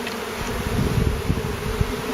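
A swarm of honeybees buzzing around a hive outdoors, a dense, steady droning hum that swells slightly in places and continues for the whole span with no talking.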